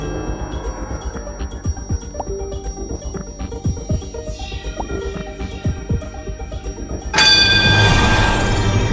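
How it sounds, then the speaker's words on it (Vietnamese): A quiz show contestant's buzzer bell rings out suddenly and loudly near the end, a bright sustained chime over busy studio background music. "rất nhanh chóng chúng tôi đã nhận được tín hiệu ấn chuông của Xuân Tùng"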